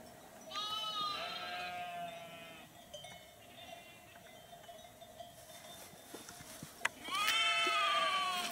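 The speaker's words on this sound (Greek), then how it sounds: "ο ήχος των προβάτων και αυτά" Sheep bleat in a quiet morning village, with a long harmonic bleat near the start and another loud one near the end, quieter calls and soft rustling in between, fairly close.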